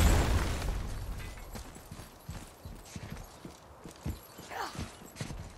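Horse hooves clip-clopping in the video game God of War, a string of soft irregular thuds at moderate distance after a louder rumbling burst at the start, with a brief whinny-like sound near the end.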